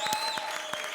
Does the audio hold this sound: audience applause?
yes